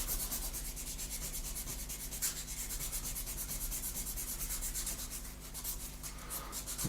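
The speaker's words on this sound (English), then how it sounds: "so we just sand these off" Sandpaper rubs plastic parts from a 1/32 Trumpeter F-14D Tomcat model kit in quick, steady back-and-forth strokes, close and continuous, a dry scratchy hiss with no talking.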